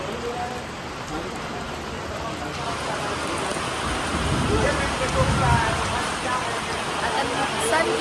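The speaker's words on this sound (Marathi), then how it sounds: "पाऊस एवढा आहे चिखल झाला सगळीकडे पाणी पाणी आहे" Steady heavy unseasonal rain hisses and patters continuously on muddy, waterlogged surfaces, a dense broadband wash of sound with no voices.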